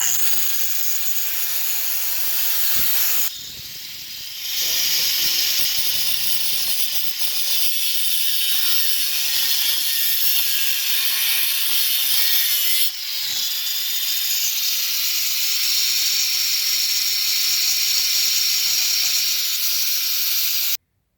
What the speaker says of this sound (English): I'm gonna take and cut this corner, so it's gonna get a little loud